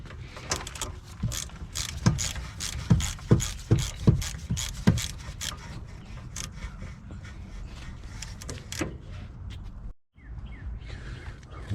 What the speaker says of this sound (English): Then you come back with your T45 to tighten those in.